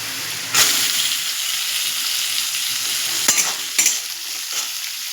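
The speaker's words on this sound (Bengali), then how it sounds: "এবার আমি এর মধ্যে দিয়ে দেবো পেঁয়াজগুলো।" Onions dropped into a hot pan with partly fried vegetables for lentil dal, giving a loud, continuous sizzle and hiss with a few sharp stirring knocks, close up.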